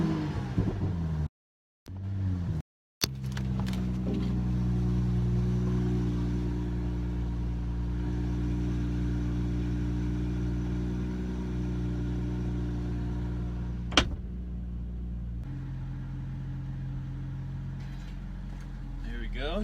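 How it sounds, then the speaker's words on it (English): A BMW M235i on its stock exhaust cold-starts with a short crank, then settles into a steady, close idle rumble that holds for many seconds, with one sharp click partway through. "I think we'll start today with a little cold start video. This is a stock exhaust"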